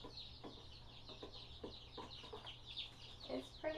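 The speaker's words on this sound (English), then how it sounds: "Yay, chickens!" Quiet, soft clucking from a small flock of chickens, rhythmic short calls and chirps spread through a few seconds over a steady low hum.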